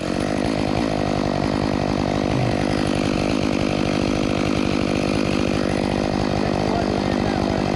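A chainsaw cuts down a huge tree, its engine roaring loud and continuous at close range with a steady buzzing drone throughout.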